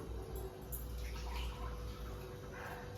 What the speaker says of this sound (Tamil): தண்ணியை கொஞ்சம் ஊற்றி வச்சிருவோம்.